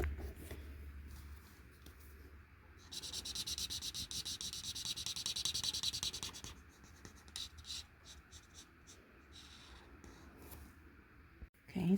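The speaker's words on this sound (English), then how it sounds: "let you just listen to the nice scratchiness of this nib" A marker nib from an inexpensive store set scratches steadily across paper, a close, dry, continuous rasp that swells louder midway through strokes and fades, with only faint background noise.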